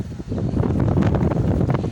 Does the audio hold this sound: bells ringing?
no